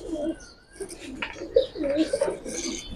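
Giribaz and red-footed military pigeons coo in low, throaty bursts close by, several calls overlapping while people talk nearby.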